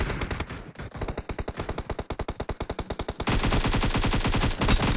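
Rapid automatic gunfire from PUBG Mobile on Android: a fast, steady burst of loud shots that swells into a denser, continuous volley near the end.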